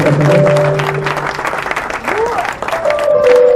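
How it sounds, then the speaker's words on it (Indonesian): Applause and crowd noise rising under music and a voice, loud and close, fading midway then swelling again. "tepuk tangan untuk Mak Ben"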